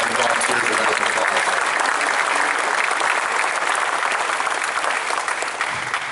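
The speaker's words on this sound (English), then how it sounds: "So please give the donors and the volunteers a round of applause." An audience at a statue unveiling ceremony in a stadium rotunda claps in a steady, dense round of applause that holds for several seconds and begins to thin at the end.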